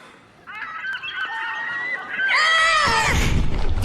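A seagull gives a loud run of harsh calls, close by, growing louder and denser in the second half as a second bird or more excited calling joins in, with no talk over it.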